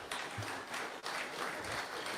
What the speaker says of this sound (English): Oh, don't clap yet